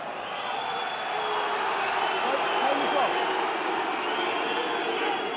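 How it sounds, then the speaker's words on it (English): Rugby crowd at an Ulster v Ospreys match, voicing displeasure as a steady, broad roar of jeers and murmuring that holds level throughout, with a commentator talking over it. "Well, the crowd not very happy with Mr. Hennessy."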